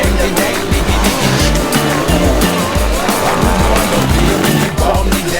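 Loud sidecar motocross engines roar continuously with rhythmic revving bursts, close and busy, as the three-wheeled outfits rip past at full throttle.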